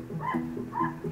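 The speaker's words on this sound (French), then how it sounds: "donc le chien du voisin s'appelle Kayla" A neighbour's dog gives two short, soft barks or yelps about half a second apart, faint and somewhat distant in a quiet room.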